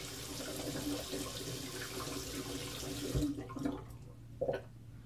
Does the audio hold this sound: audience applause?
no